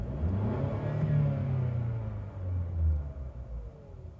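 Low rumble of a 2017 Mercedes-Benz C300 4MATIC engine revving, two smooth swells rising and settling back toward idle, heard fairly close with no talking.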